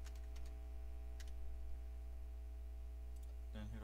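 Someone types a name on a computer keyboard while setting up Windows 95 in VirtualBox. A few sparse, faint key clicks sit over a steady low electrical hum.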